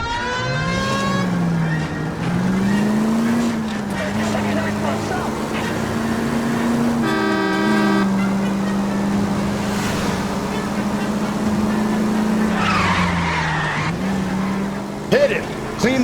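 A car driving in L.A. Noire, with a steady engine drone that rises and falls as it shifts through gears, plus tyre squeals and scraping skids partway through and brief clattering near the end, all close and continuous.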